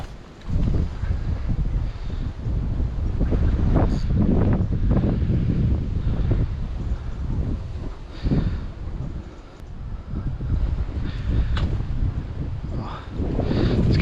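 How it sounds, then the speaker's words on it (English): Strong wind buffets on a fishing bank by a mere, a loud continuous rumbling roar with gusty surges throughout and no talk. "it's windy."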